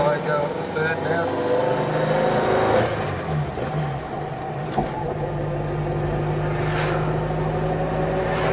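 1956 Ford Prefect 100E on the road with an overhauled gearbox, shifting into third gear: a steady mid-pitched engine drone dips as the gear changes, then settles into a smoother hum, with some voices mixed in.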